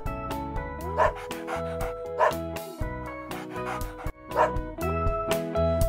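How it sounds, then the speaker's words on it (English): A dog barks several times over a cheerful musical backing, the barks spaced roughly a second apart and fairly loud. "A dog."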